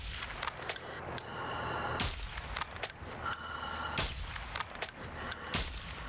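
Gunfire crackles in Warzone 2 combat against a player with a shotgun, a series of sharp, loud, close shots at irregular intervals, some in quick bursts, with constant game noise beneath.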